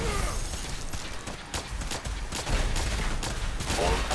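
Sustained gunfire in the video game Fallout 4, a dense, continuous volley of rapid shots with sharp cracks recurring throughout, loud and close with no speech.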